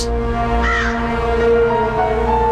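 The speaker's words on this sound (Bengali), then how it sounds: "এই কাকটা ঘরের ভিতরে কি করছে?" A crow caws indoors, a few harsh calls close by over a steady low hum of background music, with no talking.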